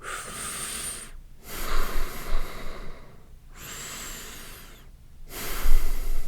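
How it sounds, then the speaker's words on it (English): Exaggerated breathing through both mouth and nose, lips held in a whistling position, comes as a few long, airy inhales and exhales separated by short silent pauses, close and alone. "you start breathing in and out of both your mouth and your nose"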